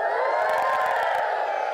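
A crowd of children in a live audience cheers and whoops for author Anthony Horowitz, a loud, sustained roar of many young voices held throughout, with no speech.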